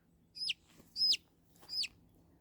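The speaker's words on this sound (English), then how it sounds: "So I do think that they're a black sex link chicken." A young black sex link chicken gives three short, high, evenly spaced peeping calls, close by in otherwise quiet surroundings.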